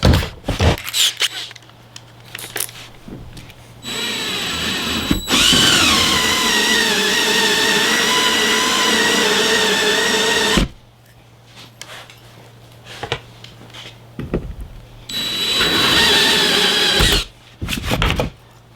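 A power drill bores a hole for mounting a Motorguide Xi3 trolling motor on a Bonafide SS127 boat, two loud whining bursts of drilling separated by quiet pauses with small clicks and handling noises.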